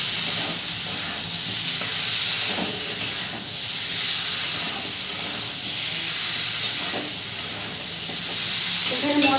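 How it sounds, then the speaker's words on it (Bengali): Salt is stirred into spices frying in a cooking pan for a pointed gourd and rice dish, giving a continuous close hiss and sizzle with soft scraping from the stirring and no talk. "নুনটা দিয়েও খুব ভালো করে মিশিয়ে নেব।"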